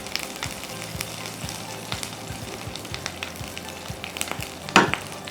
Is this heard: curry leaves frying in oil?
yes